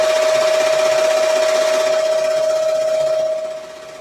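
Embroidery machine running a tack down stitch to fasten appliqué material on a lace shirt, a fast steady mechanical whir with a constant tone, close and loud, slowing and fading at the end.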